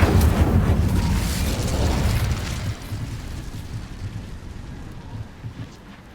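A fire spell cast in Hogwarts Legacy bursts out loud and roaring, then crackles and rumbles down to a softer fiery hiss over several seconds.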